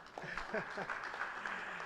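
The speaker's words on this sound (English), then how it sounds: "a round of applause for" Audience applause at a public lecture, a steady broadband patter of many hands clapping, heard under a speaker's voice throughout.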